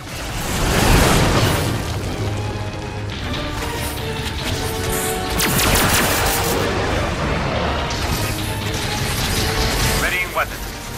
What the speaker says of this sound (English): Fire now! Opening fire.